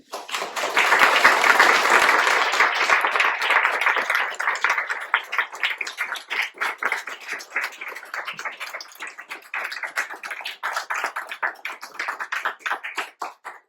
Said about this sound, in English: Big applause to all the